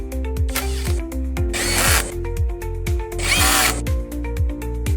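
A power tool tightens bolts on the front anti-collision frame of a BISON 4WD multifunctional mini tractor, giving two short, loud whirring bursts over steady background music.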